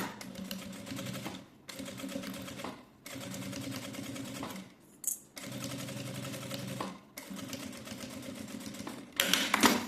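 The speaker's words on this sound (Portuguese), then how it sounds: "eu vou virar essa peça e vou passar pelas costas essa costura, segurando o tecido e o plástico" A sewing machine stitches fabric and plastic together in long, steady runs of rapid mechanical chatter, stopping briefly between seams, with a small clack during one pause and a louder burst at the end.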